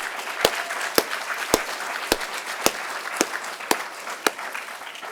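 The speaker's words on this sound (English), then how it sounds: "I want to give a quick round of applause to all of our candidates" Audience applause for candidates at a League of Women Voters primary election forum, a steady wash of clapping with sharp evenly spaced claps standing out roughly twice a second.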